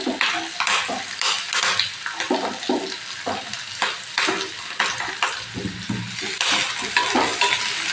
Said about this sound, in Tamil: நல்லா இந்த மாதிரி ஃப்ரை பண்ணிக்கோங்க.